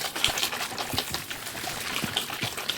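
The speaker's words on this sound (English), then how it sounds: "more spray sounds. Yeah. More spraying for you." Water sprays in a continuous hissing stream with repeated spurts and splashes, close up, steady throughout with no voices.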